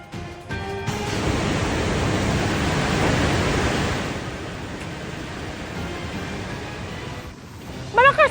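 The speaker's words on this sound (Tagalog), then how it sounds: "Malakas ang lagasan ng tubig sa Upper Wawa Dam." Heavy rushing water pouring over the Upper Wawa Dam spillway during nonstop rain, a steady broadband roar that swells in the middle and eases slightly toward the end, with a brief tonal sound at the close.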